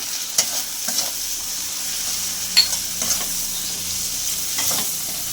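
Spices with sugar, ginger paste and Kashmiri chili powder fry in oil over high heat for a Chela fish curry, giving a steady bright sizzle with occasional sharp spatula scrapes and taps against the pan.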